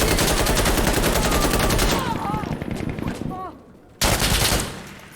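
Rapid automatic gunfire in the tactical shooter Insurgency: Sandstorm rattles loud and continuous, drops away into a brief lull, then bursts back in at full volume.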